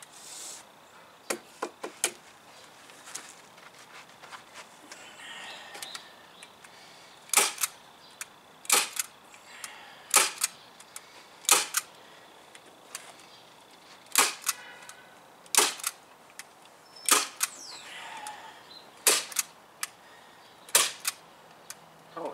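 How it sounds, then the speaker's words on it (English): Staple gun firing into material on a boat trailer, a series of sharp, close snapping clacks at an irregular pace, sometimes in quick pairs, with quiet gaps between and no talking. "Staple it, please."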